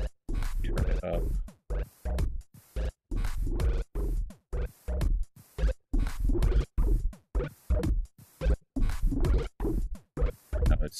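A bubbling, gurgling synthesizer in Korg Gadget pulses in rapid choppy bursts, sounding like something burbling underwater, steady and continuous throughout.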